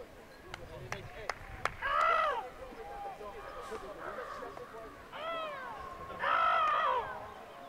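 Several loud, hoarse caw-like calls voiced by people at an outdoor ultimate frisbee tournament, imitating crows, come in two bursts amid outdoor noise and a few sharp clicks.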